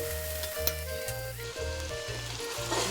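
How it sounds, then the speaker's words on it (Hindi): Onions, garlic and ginger sizzling steadily in a hot pan, a close, continuous frying crackle with faint clinks of a utensil. "प्याज़ों को कलर आ चुका है, हम इसमें लहसुन अदरक ऐड कर देते हैं ताकि हमारा लहसुन अदरक भी पक जाए"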